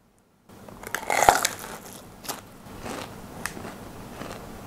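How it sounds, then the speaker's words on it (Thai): A big crunchy bite into a Burger King taro and corn pie with a crisp, thick pastry shell, giving a loud crackling crunch near the mic followed by softer chewing, with no talking. "ต่อไปพายเผือกข้าวโพดของเบอร์เกอร์คิงครับไปครับคำโต"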